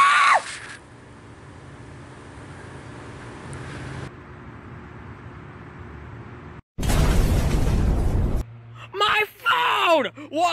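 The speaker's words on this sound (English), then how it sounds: "That was a big explosion, guys!" Firework bombs go off in a Super Mario game, heard as a loud, dense burst of noise that lasts nearly two seconds. Game tones come before it, and an excited voice calls out after it.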